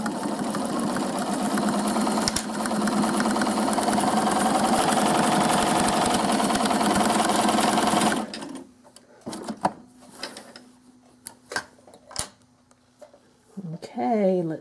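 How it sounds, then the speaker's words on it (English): A sewing machine runs steadily, stitching monofilament thread between high-contrast fabrics in a continuous mechanical whir, then stops, leaving scattered clicks and handling sounds before a short burst at the end. "I'm stitching between very high contrasting fabrics"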